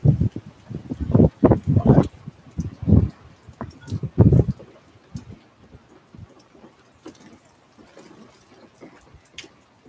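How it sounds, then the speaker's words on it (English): Strong hurricane wind in southwest Georgia rumbles like thunder in loud, gusting bursts that are heaviest at first and then ease into a lower, patchy roar with rain. "It sounds like thunder, but it isn't thunder. It's the wind."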